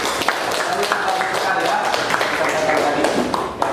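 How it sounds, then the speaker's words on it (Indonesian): Pupils in a classroom clap for a group of three classmates, a continuous patter of many hands under lively chatter and voices. "tepuk tangan untuk teman-teman yang bertiga"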